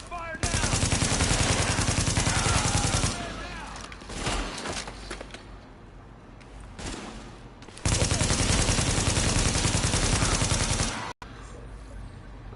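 Sustained bursts of rapid automatic gunfire in a video game shootout, loud and dense, breaking off into a shorter lull before another long volley resumes; a voice shouts briefly amid the shooting.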